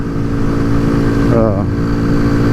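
A Kawasaki Z125 motorcycle held at full throttle climbing a hill, its engine droning steadily and loudly under heavy wind rush, with a brief wavering pitch midway, heard from the rider's position.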